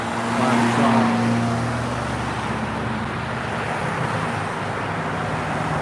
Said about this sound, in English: Traffic's getting heated up out here.